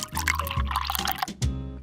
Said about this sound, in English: I'll pour some water here